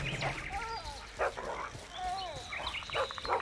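Dog whimpers and yips in The Witcher 2, a few short whines and barks scattered through the clip over game ambience, with some overlapping chatter.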